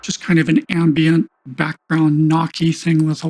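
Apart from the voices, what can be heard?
No everyday noise stands out behind the speech.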